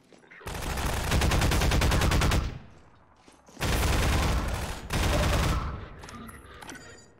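Half-Life 2 gunfire comes in three sustained bursts of rapid, loud shots separated by short pauses, with rattling, dense reports.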